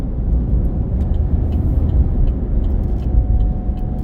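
Steady low road rumble from inside a full-time family RV driving down the road, a constant droning engine and tyre noise with faint light clicks and rattles and no talking.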